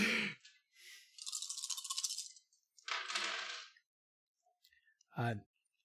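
Five dice rolled during a tabletop role-playing game, heard as close rattling bursts and clattering tumbles across a surface, with a brief voice near the end.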